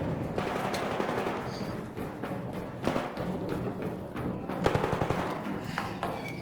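Gunfire in the shooter game Arc Raiders breaks out in rapid bursts and thudding shots, fairly close and continuous, with a brief lull before more firing.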